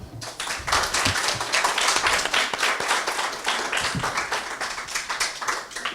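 Children of a French CM1 primary class clap for themselves, a lively patter of many individual hand claps, fairly close and sustained for several seconds.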